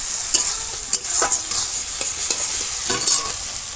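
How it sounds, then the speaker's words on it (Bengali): Garlic paste sizzles and fries in a pan over a wood-fired village stove while a spoon scrapes and stirs it in a few distinct clattering strokes, all close and without talking. "রসুনটা কষাবো"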